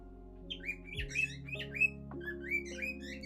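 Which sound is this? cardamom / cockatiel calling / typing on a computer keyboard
cockatiel calling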